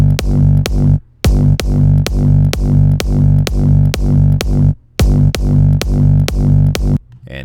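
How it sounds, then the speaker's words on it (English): Distorted electronic kick drum sample from a music production session, struck in a steady loud pattern of repeated hits with two short gaps, no voices. "First kick sounds like this. It's kind of more of a, I'd say, distorted kick."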